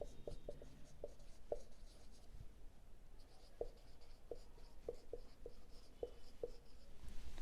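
A teacher writes a commerce formula on a board in a class 12 accounts lesson: irregular taps and scratchy strokes of the marker or chalk, clear and close, with no voices.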